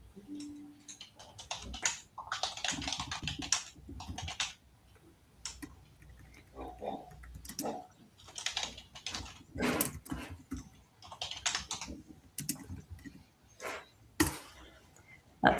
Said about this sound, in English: Your keyboard is coming through.